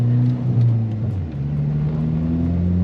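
A Ford Fiesta ST fitted with an MBRP XP Series aftermarket exhaust pulls hard under acceleration, its low droning exhaust note rising and shifting in pitch, loud and close with no talk.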